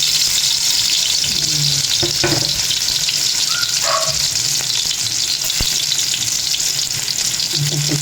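Cooking oil frying in a pan while adobong pusit is being made, a loud, dense, unbroken sizzle with a few light knocks and clinks of utensils.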